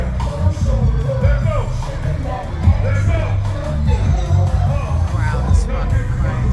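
A crowd at a North Carolina show roars and babbles in a dense, continuous wash, loud and close, with a voice talking over the noise.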